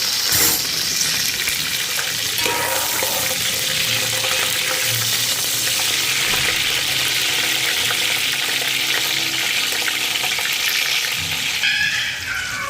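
Green chillies sizzle and fry in hot oil for a vegetable biryani, a loud, continuous crackling hiss close to the pan with occasional stirring scrapes.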